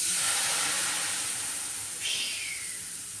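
White wine hitting hot extra virgin olive oil in a pan, a loud, hissing sizzle that starts at full strength and slowly eases off, with a brief sharper hiss partway through and no talk.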